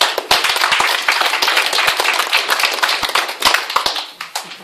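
A crowd at a public debate forum on MBC claps together in a brisk burst of applause, close and loud, with sharp individual hand claps standing out before it tapers off.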